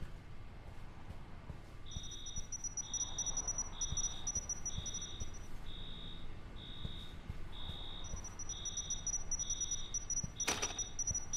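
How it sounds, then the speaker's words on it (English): Electronic alarm in the video game INFRA, a regular series of high beeps repeating about once a second over faint low ambience, with a brief sharp noise burst near the end and no talk. "That makes the alarm go off again?"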